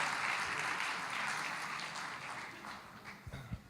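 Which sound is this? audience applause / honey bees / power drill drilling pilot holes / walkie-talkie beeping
audience applause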